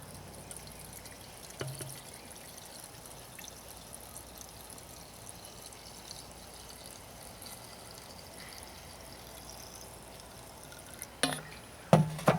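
Quiet trickle of 50:1, 92-octane two-stroke fuel poured into the tank of an Echo SRM 230 string trimmer, a soft continuous gurgle ending with a few louder plastic knocks and clicks.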